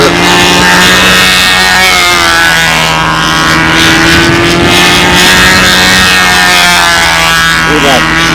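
Model aircraft engine at a windy 2004 national championship flyoff, a loud steady buzzing drone holding a constant pitch throughout, with people talking faintly underneath.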